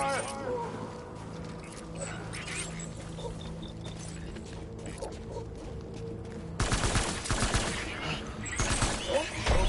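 Gunfire in Death Stranding, with scattered shots and clatter over a droning background, building into denser, louder bursts of fire toward the end, with voices shouting throughout.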